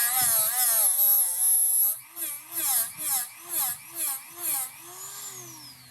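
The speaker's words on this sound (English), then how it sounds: "what works even better is a Dremel with a 80 grit" Dremel rotary tool fitted with an 80-grit sanding wheel working on a boat hull, a high whining buzz that wavers in pitch, then pulses in about six short bursts as it presses on and off the surface.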